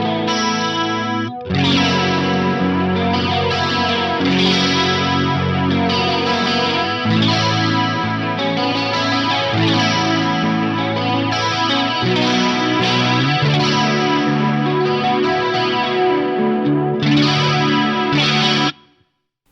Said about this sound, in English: That's a good sounding flanger if you like the kind of 70s rush thing right there.